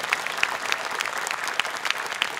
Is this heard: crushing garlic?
no